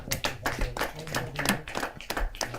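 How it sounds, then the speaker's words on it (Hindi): Scattered clapping from a small audience at a Hindi poetry award ceremony, individual claps distinct and uneven rather than a dense roar, fairly close and moderate in level. "जरा जोरदार तालियों के साथ।"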